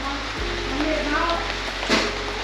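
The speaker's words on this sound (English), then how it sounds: "Look at how quickly the rain falls here in Cambodia." Heavy tropical rain pours down in Cambodia, a steady broadband hiss of falling water that stays loud and even throughout, with faint background sounds mixed in.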